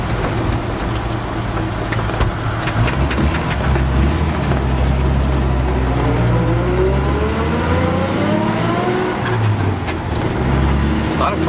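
The engine of a 1951 Dodge B1 pickup truck revs and accelerates, rising through several gear-like sweeps, loud and close, with a deep rumbling drone and occasional voices underneath.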